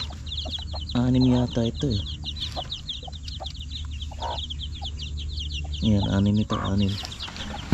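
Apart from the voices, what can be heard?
hens clucking on a farm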